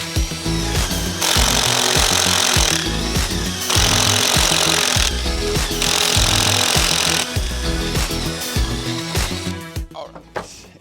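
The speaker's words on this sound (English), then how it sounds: "use that basically as a template or a guide to drill through the second one" A loud power drill whines steadily through wood in several long bursts, drilling a carriage-bolt hole, with a mechanical buzzing rattle, pausing briefly between runs before winding down.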